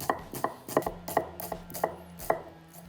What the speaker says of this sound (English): Now the onions, I'm just going to slice up into smaller pieces.